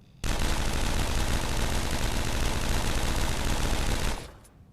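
Continuous automatic gunfire from a gun in the VR shooter Contractors rattles loudly and steadily for about four seconds, then stops abruptly, leaving quiet.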